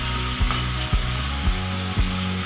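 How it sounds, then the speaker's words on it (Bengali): A chicken stew pan sizzles steadily and loudly as hot water goes in, with a spoon scraping through it in regular strokes about every half second. "আমি গরম জল দিচ্ছি।"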